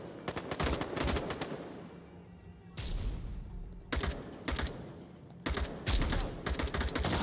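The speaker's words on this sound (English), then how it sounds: "there's just a lot of gunfire, but nobody's even like shooting at a lane" Gunfire in the VR shooter Onward during a competitive match, with repeated bursts of automatic fire and sharp shots cracking in clusters separated by brief quieter gaps, loud and close.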